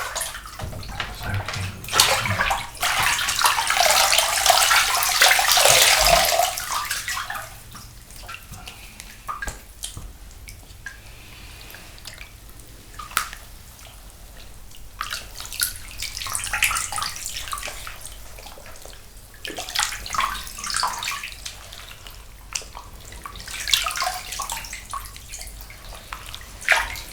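Running water splashes in a bath while a scrub is rubbed over a back, the pouring loud and close in bursts with quieter stretches of soft rubbing and dripping between.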